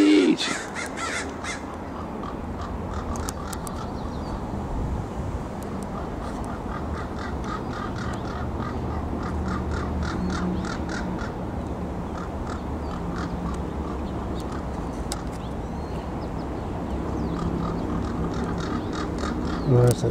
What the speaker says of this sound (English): Making all the crows upset?